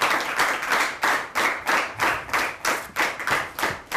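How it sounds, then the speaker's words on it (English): A school debate audience applauds the judging panel, with a close, rhythmic burst of hand clapping that swells and dips in regular waves and continues throughout. "A bigger round of applause for them,"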